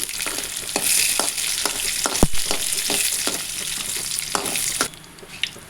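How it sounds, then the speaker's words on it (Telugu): Mustard seeds, cumin, chana dal, urad dal, dried chillies and white beans frying in hot oil as a tempering, a loud steady crackling sizzle with scattered sharp pops and a metallic clink, fading near the end. "పోపు వేగనివ్వాలి."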